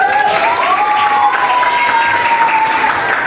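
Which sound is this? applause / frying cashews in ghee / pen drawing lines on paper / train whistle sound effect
applause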